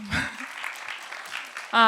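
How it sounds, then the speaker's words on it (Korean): Audience applause at a conference design talk, a broad patter of clapping across the room lasting under two seconds, with a brief voice at the start and a speaker's voice cutting in at the end. "박수 한번 쳐주실 수 있나요?"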